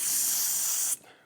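Aerosol spray can sprayed in one continuous loud, close hiss for about a second, then abruptly stopping.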